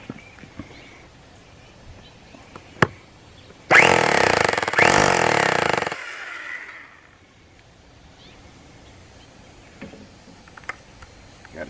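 A Bauer rotary hammer with a 1/4-inch concrete bit drills into concrete in one loud, rattling burst of about two seconds, close up, then stops with a brief tail and quiet handling noises.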